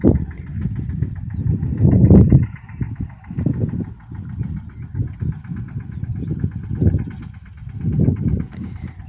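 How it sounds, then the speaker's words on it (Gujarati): A tractor engine runs in a farm field with a low, uneven, pulsing rumble that swells and fades as it labours, heard close by with no one talking. "આજે ટ્રેક્ટર હંકાનું ચાલુ કર્યું જ છે."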